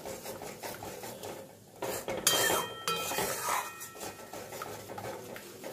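A spatula scrapes and stirs a spice paste loosened with yogurt-bowl rinse water in a pan for boal fish curry, clattering metal-on-pan strokes with a louder burst midway, and no talking.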